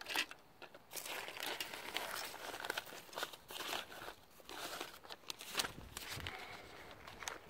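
Plastic packaging around a brand-new Ioda Red Line fishing lure crinkles and crackles in repeated close bursts as it is handled, without any speech.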